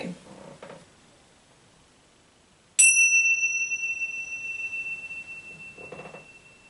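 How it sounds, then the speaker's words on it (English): A bell is struck once at the start of a mindfulness session, a bright metallic chime that rings out and slowly decays over several seconds in a quiet room, with faint soft rustling before and after. "I will ring the bells at the start and the end."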